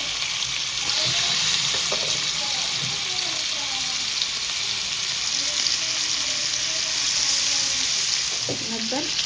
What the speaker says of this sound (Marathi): पीठ वगैरे लावायचं नाही याला, डायरेक्ट तेलात सोडायचं.